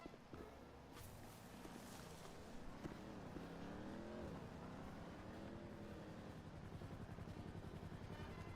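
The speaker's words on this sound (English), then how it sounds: "Is that the chopper?" A computer-controlled police helicopter in a role-play video game flies overhead, a continuous rumbling rotor and engine drone with a rising, wavering pitch in the middle, steady and fairly loud with no talking.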